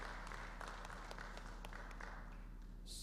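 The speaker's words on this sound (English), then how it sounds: "Give him a round of applause" Audience applause for a speaker at a Shrimad Bhagwat Katha religious gathering, a faint, distant steady patter of many hands over a low hum.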